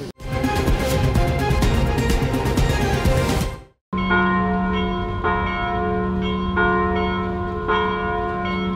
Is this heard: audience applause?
no